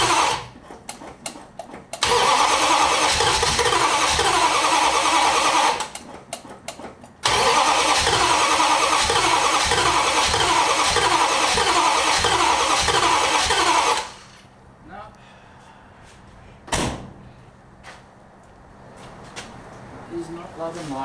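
A ute engine cranking repeatedly without catching, long stretches of rhythmic starter churning separated by short pauses, then a quieter spell with faint sounds, close and loud.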